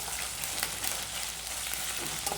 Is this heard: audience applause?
no